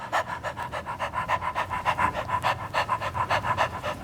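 A human voice imitates a dog panting, giving a steady run of quick, rhythmic breathy pants, close and fairly loud, with no other talk.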